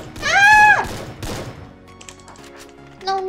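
Gunfire in the mobile battle-royale game Free Fire: a few loud, sharp bursts and thuds in quick succession, mixed with bright game tones and effects.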